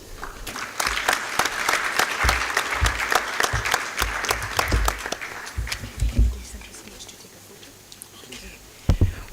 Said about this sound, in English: One more round of applause for Sharon and the other youth climate ambassadors from our partner states